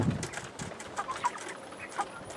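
Cornish cross chickens clucking softly while eating, a scattered series of short, faint bird calls over steady low background noise.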